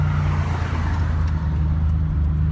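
A Buick Grand National accelerates in third gear, its low, steady engine rumble droning loudly throughout with a faint whine above it.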